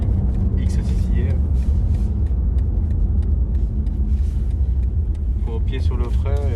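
A 2020 BMW M8 Competition Gran Coupé engine rumbles low and steady up close while held for a launch-control start, with people talking over it throughout.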